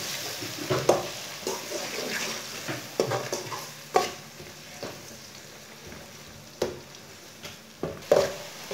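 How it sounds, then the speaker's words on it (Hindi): Onions, garlic and red chillies fry in a pan for a dhaba-style chana dal palak, a steady sizzle broken by scraping stirs and occasional clacks of a spoon against the pan. "मिर्च डाल लेंगे, 1 मिनट तक भून लेंगे।"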